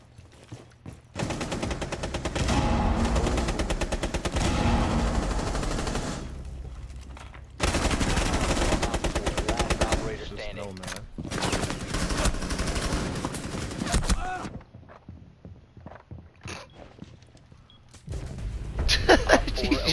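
Gunfire in Rainbow Six Siege: long bursts of rapid automatic fire come in several loud stretches with short pauses between them, and a few scattered single shots fall in the quieter gaps.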